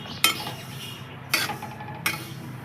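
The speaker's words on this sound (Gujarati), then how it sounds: "ધીમા હલાવતું જ રહેવું પડે, નકર તો પછી આમ તળિયે દાજી જાય." A spoon scrapes and clinks against a thick kadai while stirring a sesame chikki mixture, three distinct metallic knocks spaced over a soft continuous scraping, with no talking.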